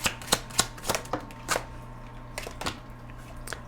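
Tarot cards being shuffled by hand: a run of crisp, sharp riffling bursts at irregular intervals, close and moderately loud over a faint low hum, with no voices.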